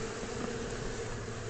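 Honeybees in a top bar hive hum in a steady, dense buzz that fills the whole moment, close and continuous with no talk over it.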